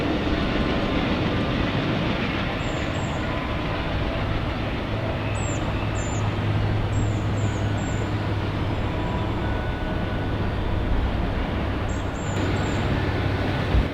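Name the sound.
train passing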